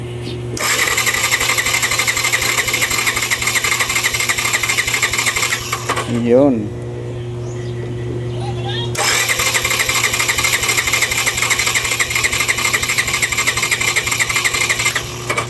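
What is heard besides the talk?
Yamaha FZi 150 motorcycle engine cranking during compression test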